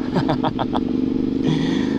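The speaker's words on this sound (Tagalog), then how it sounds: "Nakuha na pala ni Doms yung motor niya." A motorcycle engine idles with a steady, throbbing rumble close by, while a few short clattering bursts sound near the start.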